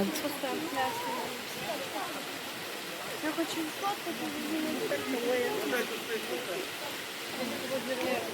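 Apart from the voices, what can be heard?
waterfall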